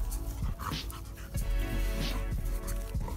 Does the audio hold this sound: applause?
no